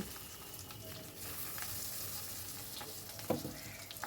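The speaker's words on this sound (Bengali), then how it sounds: "এবার ম্যারিনেট করা মাছটা আমি দিয়ে দিচ্ছি ভেজে নেব" Marinated fish frying in hot oil in a wok, a steady close sizzle and crackle throughout with a brief louder spatter near the end.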